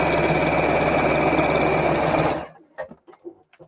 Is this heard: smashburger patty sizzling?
no